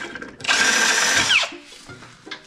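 A power drill runs loud and steady for about a second, spinning at high speed, then winds down and stops. Brief clunks and faint voices follow.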